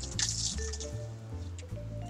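Soft food such as strawberry cheesecake filling is poured into a container, producing wet squishy drips and gloops in a few uneven bursts, close up with no talking.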